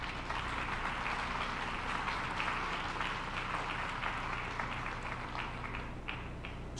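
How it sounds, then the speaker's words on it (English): An audience at a university State of the University address gives a round of applause, a soft, continuous patter of many hands heard from a distance that holds steady for several seconds. "Let's have a round of applause for them."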